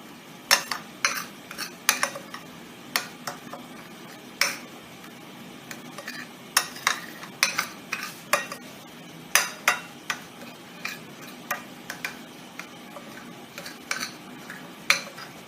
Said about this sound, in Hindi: अब इसको मैं अच्छे तरीके से मिक्स करती हूँ।